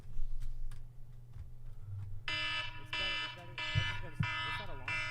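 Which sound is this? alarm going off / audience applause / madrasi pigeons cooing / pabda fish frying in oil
alarm going off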